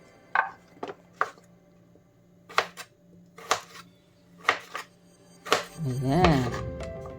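A knife chops through saba bananas on a cutting board in separate, sharp thuds spaced about a second apart, close and clear over a quiet background, followed by a brief voice at the end.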